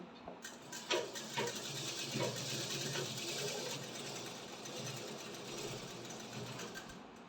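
A sewing machine's handwheel is turned by hand while the needle is threaded, giving a quiet, close mechanical whirr with soft clicks that runs steadily for several seconds.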